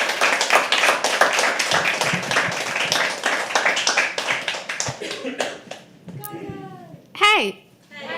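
An open mic audience at The Habitat claps for a spoken word poet coming on stage, a dense run of clapping that thins out toward the end as a few voices and a whistle-like sound rise.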